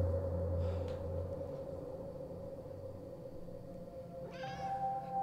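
A cat meows in an animated SpongeBob-themed cartoon, with a long drawn-out meow at the start and a second rising meow near the end, over a low steady background hum.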